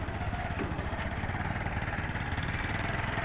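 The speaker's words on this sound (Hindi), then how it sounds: "देखो जी इसकी टेस्टिंग चल रही है जी गड्डी की, विज्ञानी जी हम चला के लेके आए हैं।" A farm vehicle pulling a trolley runs its engine during a test, giving a steady, close mid-pitched chugging drone with light clatter throughout.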